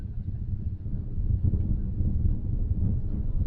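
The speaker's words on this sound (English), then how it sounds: "That wind must be gusting well over 40 miles an hour." Strong gusting wind buffeting a microphone outdoors at a rugby match, a low rumbling roar that swells and surges throughout, close and heavy.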